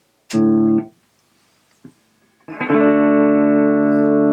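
Two distorted chords from a 1981 Kay K45 electric guitar ring out loud, the first cut short after half a second, the second held and sustaining after a brief pause.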